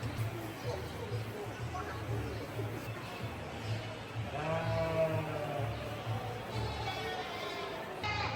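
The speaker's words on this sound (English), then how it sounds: "whilst these sheep are screaming at each other" Sheep bleat loudly and repeatedly inside a barn at Folly Farm in West Wales, several overlapping calls over a busy background of chatter and farm noise.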